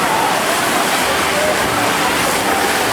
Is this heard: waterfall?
yes